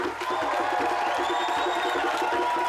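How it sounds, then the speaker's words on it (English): A protest crowd in Trafalgar Square, London, cheers and whoops in a brief, loud burst of massed voices with shouts on top and rhythmic clapping beneath. "Give him one more clap."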